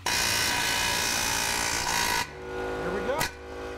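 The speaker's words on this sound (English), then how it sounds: "Now I'm thinking air hammer. Let's give it a whirl." A pneumatic air hammer works a stuck exhaust bolt on a 1995 Ford Escort wagon, giving a loud, steady rattling buzz for about two seconds before cutting off, followed by quieter mechanical hum and a brief squeal.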